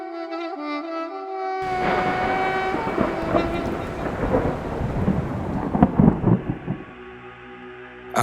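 Rain and thunder over the desert of Tharparkar district, Pakistan: after a brief musical opening, a steady wash of rain sets in with rolling rumbles of thunder and sharper cracks toward the end, loud and close, with music continuing faintly underneath.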